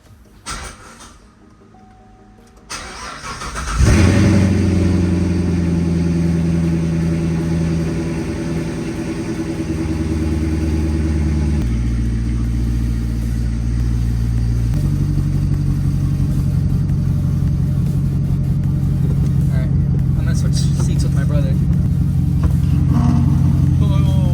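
A rebuilt Corvette fitted with new struts starts up after a quiet moment, then settles into a loud, steady rumbling idle with a few changes in engine pitch as it is revved, close by.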